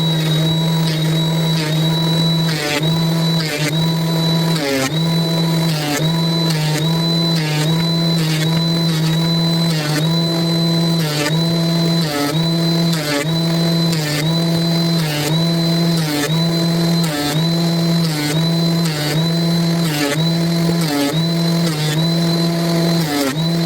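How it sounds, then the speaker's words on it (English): A power planer shaves a cedar tabletop for yard furniture, giving a loud, steady motorized whine with a regular pulsing rhythm as each pass bites, running continuously with no talk. "the reason I like planing is, man, it just throws the cedar shavings every which way"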